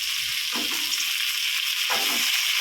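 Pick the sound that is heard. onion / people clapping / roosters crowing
onion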